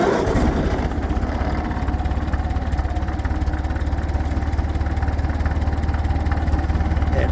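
Engine idling steadily just after its carburetor was adjusted, a close, even low rumble with a regular pulsing beat that holds throughout, no speech over it.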